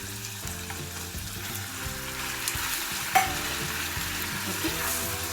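Beef sizzling steadily in a frying pan as it is stirred, a continuous close hiss with a sharp clank of the utensil near the middle and no voices.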